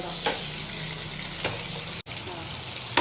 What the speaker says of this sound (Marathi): फिश फ्राय तर आता आपण हे एकदा पलटी करून घेऊया